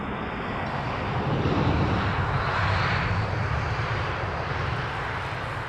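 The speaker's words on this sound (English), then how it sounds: "Little ATR twin prop, and probably the only aircraft you'll see today taking that taxiway." An ATR twin turboprop taxies at Heathrow, giving a steady, fairly loud engine drone with a broad rushing hiss that holds constant throughout, with no voices.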